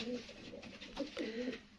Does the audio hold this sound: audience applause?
no